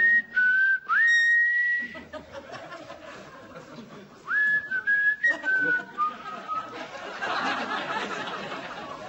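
A person whistles at a rose on a Dutch entertainment show: two bright rising and sliding whistled phrases, close and loud, with crowd noise and chatter swelling between and after them.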